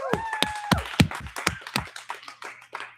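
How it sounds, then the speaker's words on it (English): A small audience gives a short, scattered round of applause for a speaker at a marketing and sales master class: a handful of distinct claps, uneven and fairly close, tapering off within a few seconds. "Let's give him a round of applause."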